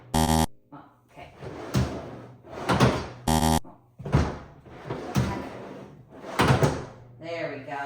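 A wooden cabinet drawer slides open and shut several times, loud and close, with sharp knocks and thuds amid excited talking in a workshop.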